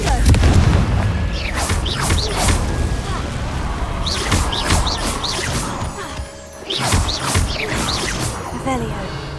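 Confringo fire spell explosions in Hogwarts Legacy, a series of loud booming blasts and crashes with dense rumbling low end, repeated several times across the stretch over continuous game noise.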